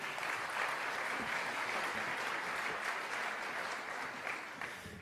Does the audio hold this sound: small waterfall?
no